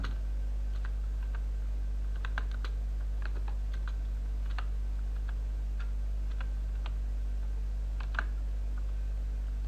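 Fingers tap out a sentence on a computer keyboard, with scattered light clicks arriving in short irregular bursts over a low steady hum, close and faint, and no voices.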